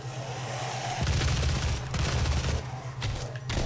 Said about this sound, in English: I found a heavy assault rifle.